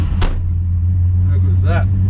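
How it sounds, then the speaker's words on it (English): A Holden HT Monaro engine cranks and catches on a cold morning, giving a short burst and then a steady low rumble close by, with a brief voice-like sound near the end. "This is how she fires up all the time."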